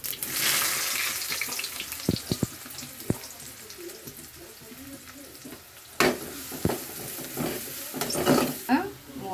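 Onions, fenugreek seeds and green chilies sizzle in hot oil for a fish curry, with a few stirring knocks against the pan and some splashy, watery hiss. The sound is close, and no one talks.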